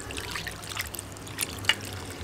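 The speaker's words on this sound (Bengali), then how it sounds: "এখন এই নারকেল কোড়ার মধ্যে দিয়ে দেব জল।" Water poured into freshly grated coconut in a large bowl, a soft close trickle and splash with a few brief clinks, fairly quiet throughout.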